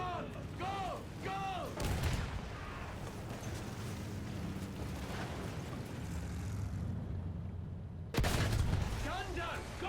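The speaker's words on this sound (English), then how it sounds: "Field guns, watch out." Field gun artillery booming in the World War I shooter Battlefield 1: two heavy blasts a few seconds apart, with background battle noise, whistling shell sounds and voices talking over the scene.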